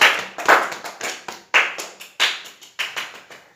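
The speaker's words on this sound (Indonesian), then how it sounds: "tepuk tangan untuk kita semua." A classroom group claps in short, rhythmic bursts, several quick rounds of close, crisp hand claps with brief pauses between them, no talking.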